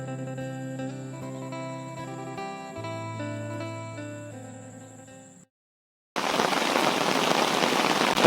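Heavy rain falls overnight at a rural frog-trapping spot as a dense, steady hiss of drops on surfaces, loud and close, following an earlier stretch of music and a short gap of silence.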